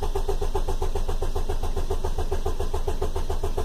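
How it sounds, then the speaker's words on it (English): A Ford car engine turns over with a steady rapid rhythmic chugging on a weak-sounding battery, loud and close, continuing without catching. "That's us cranking over."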